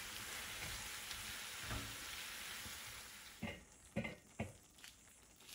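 Tomatoes cooking in a pan for a Telugu tomato pickle, giving a soft continuous sizzle, with a few sharper taps and stirring knocks near the end as they are turned.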